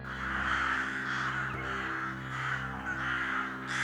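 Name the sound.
crows cawing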